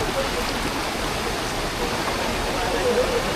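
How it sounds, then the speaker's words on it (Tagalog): A strong current of water rushes steadily, a dense broadband wash that holds at an even level without pause. "medyo malakas yung agos ng tubig."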